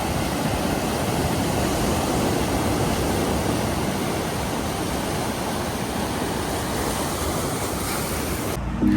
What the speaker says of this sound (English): I just had to enjoy the sound of those waves.